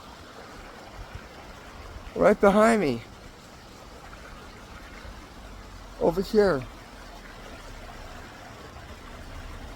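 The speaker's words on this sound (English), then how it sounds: "I hear water. I hear water." A woodland creek near a small footbridge flows as a soft, steady wash in the background, while two short spoken phrases from a nearby person rise briefly above it.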